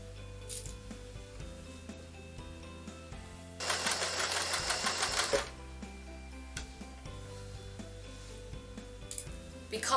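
A home sewing machine stitches a fabric tote bag in a steady mechanical whir, with a louder, denser burst of fast stitching in the middle and quieter intermittent running before and after.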